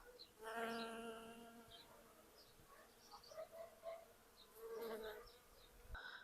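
Close, steady buzzing of bees that rises and falls as they fly near, with a few faint bird calls in the background.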